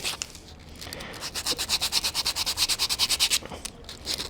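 A woodcarving knife shaves soft wood while carving a face, making a rapid rhythmic series of short scraping strokes, close and fairly quiet, with no talking.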